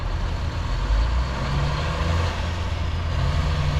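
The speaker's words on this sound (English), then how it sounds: "Look, there's a big truck. Look at the trucks. Look, ready? It's an Argosy." A big Argosy truck driving past at the Port of Brisbane, a loud deep engine rumble that swells slightly as it passes, steady and close with no voices over it.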